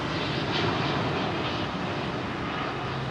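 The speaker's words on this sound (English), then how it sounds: "787-10. The newest aircraft with British Airways." A British Airways Boeing 787-10 jet at Heathrow Airport runway 27R gives off a steady, loud, broadband engine roar that holds evenly throughout, with no talk over it.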